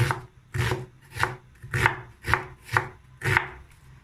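A knife finely chops half an onion on a board, seven evenly spaced crisp cuts coming close and clear with no talking.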